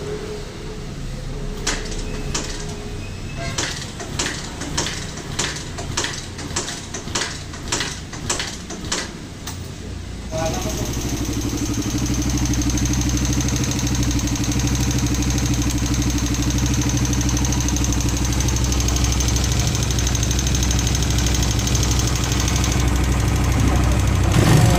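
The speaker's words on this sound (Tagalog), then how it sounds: "So ang sunod na ginawa ni Boss Ryan, nilagyan ng langis tapos pinaandar, no, para marinig yung tunog ng makina." A motorcycle engine, just refilled with oil, starts after a string of evenly spaced mechanical clicks and then runs loud and steady at close range, with a noisy, rough-sounding idle.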